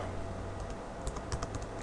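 Someone types on a computer keyboard, a short run of light, close key clicks over a steady background hum.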